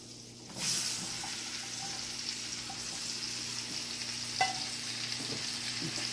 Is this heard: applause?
no